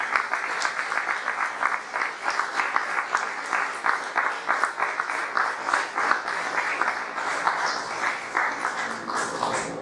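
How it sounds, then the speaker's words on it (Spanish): A church congregation applauds steadily at a Sunday morning service, dense continuous clapping from many hands with faint voices mixed in, sustained for the whole stretch. "Bríndele un fuerte aplauso al Señor en esta mañana."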